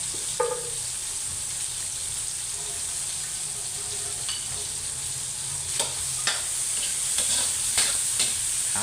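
Sliced cabbage sautéing in a pan for ginisang repolyo, a steady frying sizzle with scraping stirs and occasional clinks of the utensil against the pan, close and fairly soft, no talking.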